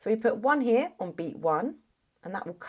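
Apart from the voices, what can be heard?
No everyday noise stands out behind the speech.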